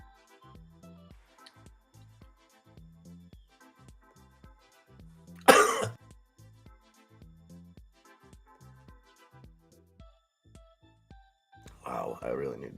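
A person with a cold coughs twice, with harsh throat-clearing bursts standing out loudly over steady talk about the stock market during a livestream.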